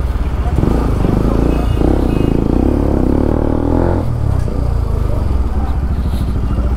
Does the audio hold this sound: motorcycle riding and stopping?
yes